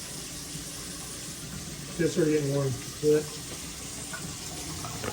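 Household tap running steadily as a faint background hiss of water throughout, while people converse nearby in a home.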